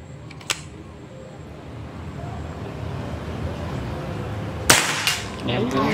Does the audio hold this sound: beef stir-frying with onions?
no